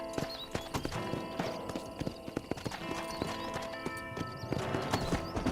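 Hooves clip-clop at a steady galloping rhythm from a horse in Red Dead Redemption, close and continuous, with brief whinnies and game music underneath.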